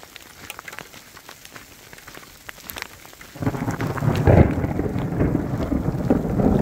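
Thunderstorm with small icy hail on a trail hike, a steady patter that swells suddenly halfway through into a loud, dense roar of falling ice and rain close by, with no talk.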